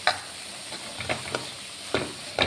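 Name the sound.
stirring cabbage stir-fry with grated coconut in a pan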